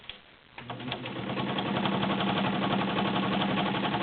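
A heavy-duty Kenmore Model 50 sewing machine starts up and runs steadily through thick seams, its motor and needle building into a loud, continuous whir without slowing.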